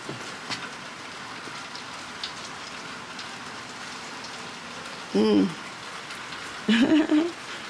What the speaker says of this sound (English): It's raining this morning.